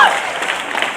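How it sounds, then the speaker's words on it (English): An outdoor crowd at a 5 Pointz rally applauds and cheers, dense steady clapping with scattered shouts, starting with a short whistle-like tone. "Make some noise for Miz!"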